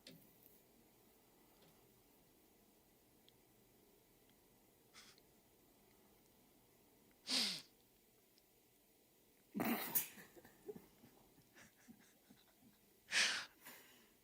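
A dog in a short played-back clip gives three short, breathy snorts or sniffs, spaced a few seconds apart against a faint, quiet background.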